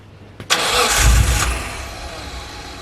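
Turbocharged Nissan R33 engine cranks briefly and fires up with a loud burst, then settles into a steady, rumbling idle.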